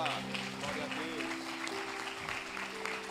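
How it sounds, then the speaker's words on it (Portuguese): A congregation applauding in church, a soft, continuous clatter of clapping beneath sustained voices and tonal sounds, somewhat distant and steady for a few seconds. "Aplaude a Deus, aplaude"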